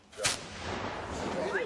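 A single loud blast fires from a medieval hook gun at an open-air museum demonstration, a sharp crack followed by a rumbling echo that lingers outdoors.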